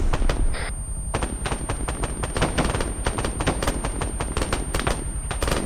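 Rapid automatic gunfire in the video game Arma 3 during a multiplayer embassy attack, dense bursts of close shots cracking in quick succession, with no talk.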